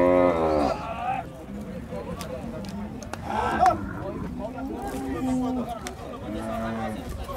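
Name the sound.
cattle mooing at a livestock market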